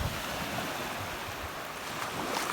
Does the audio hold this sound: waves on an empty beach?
yes